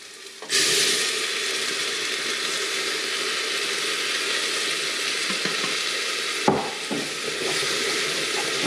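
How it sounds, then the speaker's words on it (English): Tomato puree and pulpa go into a hot pan for a Maltese kusksu soup, setting off a sudden loud, steady sizzle that holds close and constant, with a brief stirring disturbance partway through. "we're going to put in now, add the puree and the pulpa"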